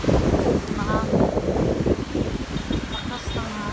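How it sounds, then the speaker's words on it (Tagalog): Strong wind gusting at the seashore in Pandan, Bohol, loud buffeting rumble across the microphone with surf behind it, while people talk over it. "Lakas ng hangin."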